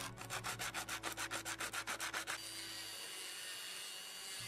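A restored hand drill part being rubbed back and forth on a flat surface to level it, about a dozen rhythmic gritty scraping strokes at an even pace, close and clear, then a steady hiss once the strokes stop.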